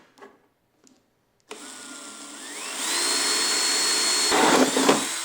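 After a few faint knocks, a 1.25 inch hole cutter on a power drill bites into a plastic lid, whining up steadily to a loud, continuous grinding drone, with no talking.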